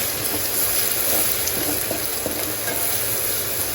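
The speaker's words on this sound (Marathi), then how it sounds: "आता ह्याच्यात आपण ॲड करणार आपला लसूण ठेचलेलं आपला मस्त तापला ते" Crushed garlic hits hot oil in a home kitchen pan while preparing a fish curry, giving a steady loud sizzle and crackle that runs unbroken throughout, with no talking.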